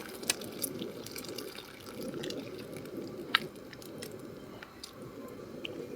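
Faint, irregular drips and small wet splashes of water falling from boiled potato slices lifted with a slotted ladle, quiet and close, with no talking.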